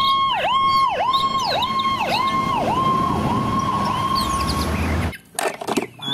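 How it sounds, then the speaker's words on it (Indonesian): A toy fire truck siren wails in a rapid, repeating up-and-down electronic pattern, loud and close, then cuts off abruptly, followed by brief clattering handling noises. "Truk pemadam kebakaran."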